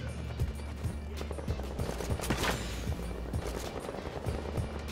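Gunfire in the online shooter Bloodhunt during a team deathmatch, with rapid shots popping at irregular intervals over a dense, busy game soundscape of near and distant firing.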